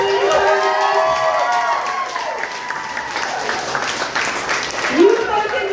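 A pub audience applauding and cheering a comedian, continuous dense clapping with whoops and shouts, while someone speaks loudly over the crowd.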